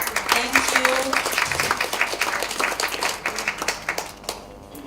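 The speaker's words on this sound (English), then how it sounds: "And have a round of applause." An audience at a Jakarta regional summit session claps in a round of applause, dense at first and then thinning into scattered, fading claps near the end.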